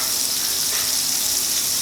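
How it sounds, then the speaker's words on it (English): Butter with Italian herbs sizzles and crackles steadily in a hot pan, a dense, even frying hiss heard close up and uninterrupted. "What I do is I put butter in the pan. We melt that down."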